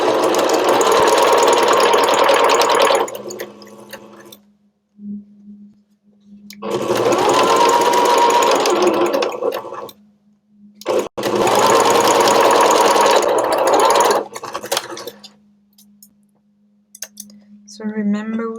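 Sewing machine running steady stitches along the interfacing of a small pouch for earbuds, loud and continuous in three long bursts with short pauses between, a faint hum filling the gaps.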